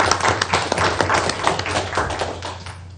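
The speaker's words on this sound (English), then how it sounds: "let's just give her a round of applause for the work that she put together" A school board meeting audience gives a round of applause, a dense run of close hand claps that stays loud and fades slightly toward the end, with no talking over it.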